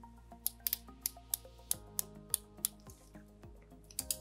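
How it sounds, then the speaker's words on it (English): Rotating bezel on a Bulova Oceanographer Devil Diver 1972 reissue watch being turned: a steady series of crisp, close, slightly tinny clicks, about three or four per second, with no talking. "But there you can hear the bezel. Everything lines up. There we go. Very clicky."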